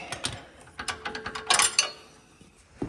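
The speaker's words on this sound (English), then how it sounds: "now I'm going to set my torque wrench to 89 foot-pounds of torque" A ratcheting torque wrench tightens a bolt to 89 foot-pounds during a steering knuckle and tie rod installation, giving a close burst of rapid metallic ratchet clicks that trails off into a few sparse clicks.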